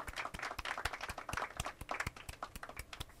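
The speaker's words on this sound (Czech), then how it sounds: "Tak taky zatleskáme, aby se neřeklo" A small group claps in quick, uneven bursts, close and fairly loud, with no talking, in the video game The Walking Dead: 400 Days.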